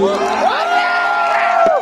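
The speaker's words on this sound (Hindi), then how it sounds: "एक बार जोरदार तालियां डेजिंग फेस्टिवल के लिए।" A crowd cheers and whoops at a live concert, a loud sustained roar with rising and falling shouts, close and continuous through the whole moment.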